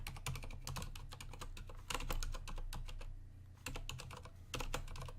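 Quick bursts of typing on a computer keyboard, close and crisp, with rapid key clicks coming in uneven clusters separated by short pauses.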